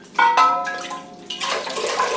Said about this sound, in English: when you pour the water through, yeah, it pushes out everything that was in the pot with the water